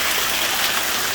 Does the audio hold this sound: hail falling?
yes